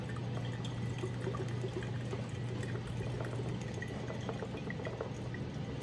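Juice or stock poured into a quart mason jar of turkey injection marinade, a soft steady liquid trickle with a low hum behind it, quiet and with no talking.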